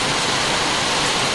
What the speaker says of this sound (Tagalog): biglang lumakas ang ulan guys